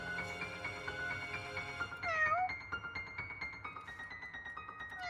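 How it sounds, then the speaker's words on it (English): A video game cat meows repeatedly in a high, harmonic-rich voice over a busy game soundtrack, with a sharper, louder yowl partway through followed by softer meows. "Cats make such terrible sounds."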